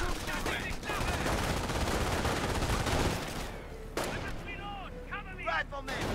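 Sniper and rifle fire in the World War II strategy game Company of Heroes, with sharp shots cracking over a dense battle din and explosions, fading to quieter moments with scattered sounds near the end.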